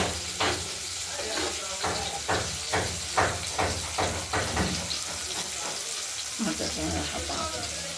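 Rohu fish frying in a pan, giving a steady broadband sizzle with repeated bursts of louder crackle, close and continuous for the whole stretch.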